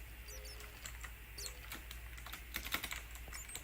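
Computer keyboard typing in quick irregular bursts of clicks, close but fairly quiet over a low steady hum, with a faint chirp in the background.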